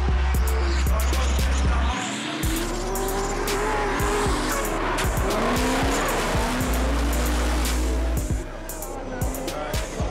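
Drift cars in a Czech Republic round of a 2014 European drifting series roar at full throttle with long tire squeals and skids, engines rising and falling loudly throughout as the cars chase each other.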